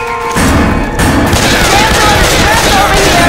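Rapid, loud bursts of gunfire blaze at the Witch in Left 4 Dead 2, a dense, sustained volley that starts abruptly after a brief pause and continues without letup, with shouting voices mixed in.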